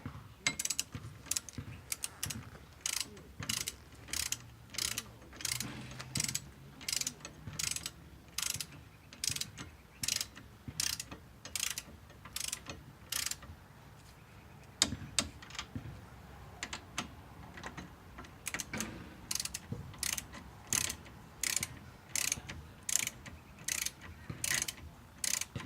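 Torque wrench ratcheting on a Maverick X3 wheel bearing: regular bursts of sharp metallic clicks in a steady rhythm, repeated many times with short gaps, close and clear.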